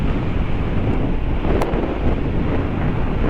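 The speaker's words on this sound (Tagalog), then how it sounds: "Lakas na hangin. Hindi natin kaya yan." Heavy wind buffets the microphone in a constant roaring rumble while riding a Honda Click 150i scooter on a North Luzon road in the Philippines, with no voices heard.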